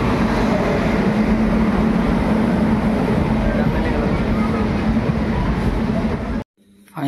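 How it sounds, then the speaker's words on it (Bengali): A train pulls into a railway station in the morning, a loud, continuous heavy rumble and clatter filling the scene, then it drops away suddenly near the end. "দেখো ট্রেন চলে আসলো আমাদের।"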